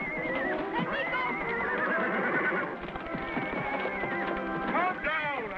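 A horse whinnies loudly in a 1955 Western television scene, its neigh rising and wavering over a dense mix of voices and background score, with a second shorter whinny near the end.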